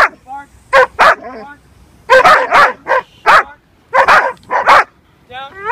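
A dog barks repeatedly in short bursts, loud and close, with brief pauses between and a few higher whines in between.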